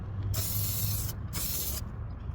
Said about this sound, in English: I spray an even amount all over the surface to lock in the finish